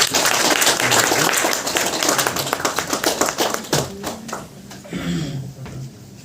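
Applause for an honorary doctorate recipient at an award ceremony in Bangalore: a burst of lively, dense clapping from an audience that gradually thins into scattered claps, with faint voices underneath.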